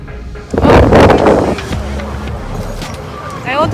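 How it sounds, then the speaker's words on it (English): Wind rushes and buffets loudly against the microphone outdoors, gusting strongest early then easing into a steadier rumble, with faint voices near the end. "I wanted to record the wind."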